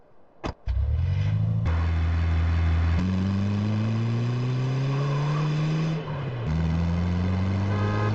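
A van driving in the video game GTA San Andreas, its engine droning loudly and steadily with rising revs and gear shifts, close and continuous after a brief bump at the start.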